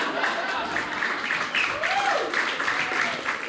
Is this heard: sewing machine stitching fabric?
no